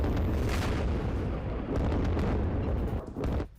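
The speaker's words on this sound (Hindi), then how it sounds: "अमेरिकी एयरफोर्स ने बमबारी की।" Heavy booming blasts from a US Air Force bombing strike on Iranian ballistic missile launchers, a loud continuous roar of explosions with sharp bursts throughout before cutting off abruptly at the end.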